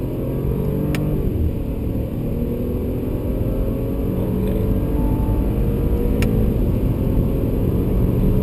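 Audi A8 V8 saloon under acceleration during a test drive, heard from inside as a steady, loud, low engine drone with road roar that holds throughout, with only two faint clicks and no talking.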